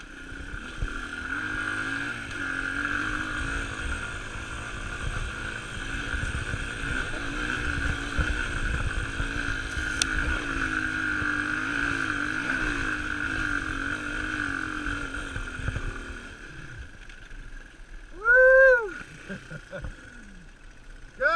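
A small 200 motorbike climbs a hill at Maricopa, its engine giving a steady buzzing drone that holds loud and close for most of the ride, then eases off near the end, with wind noise over the microphone.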